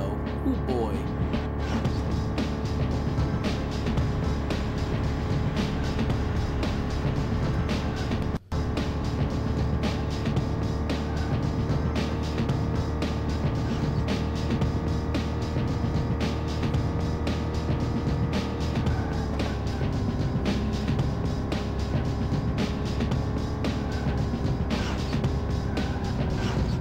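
A car engine drones continuously in Beetle Adventure Racing, a steady mid-pitched hum with a faint rising and falling tone, loud and unbroken with a brief cutout partway through.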